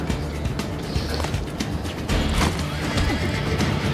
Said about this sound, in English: there's a horse waiting there